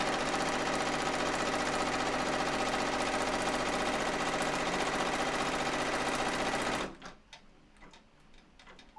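A home embroidery machine sewing a white rectangular placement stitch, a fast, steady mechanical chatter that runs loud and even for about seven seconds, then stops abruptly, leaving a few faint clicks.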